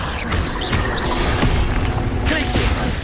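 The Confringo explosive spell from the Hogwarts Legacy video game goes off amid game effects, a loud, close, booming blast with crackling debris and sharp transient hits over a rumbling low bed.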